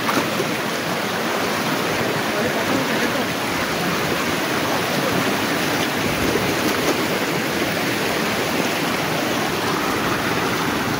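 A waterfall and stream along the Napittachhara trail in Sitakunda, Chattogram, roar as one steady, dense rush of water. It stays close and loud for the whole stretch, with no voices over it.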